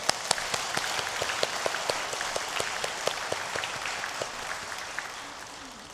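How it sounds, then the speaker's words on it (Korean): A Korean church congregation claps together during a worship service, a steady burst of many hands, crisp and sustained for several seconds without voices. "우리 하나님께 영광의 박수를 올려드리고 싶습니다"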